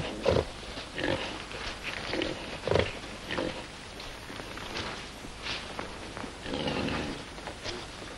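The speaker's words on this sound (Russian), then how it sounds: "Это не свинья, а Боров." A boar pig grunts repeatedly in low, rough snorts scattered through noisy surroundings with shuffling movement, fairly faint and irregular in rhythm.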